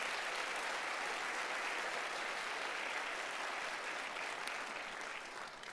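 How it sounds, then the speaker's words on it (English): Sustained audience applause for the candidates at a federal all-candidates forum of the Greater Vernon Chamber, a dense steady wash of many hands clapping throughout, tapering slightly at the end. "let's give them all a round of applause"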